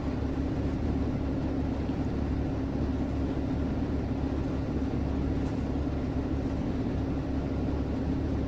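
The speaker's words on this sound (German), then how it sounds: "Es ist der Motor." Steady low rumble of a city bus engine idling in the OMSI 2 bus simulator, a continuous drone running unchanged throughout with no talk.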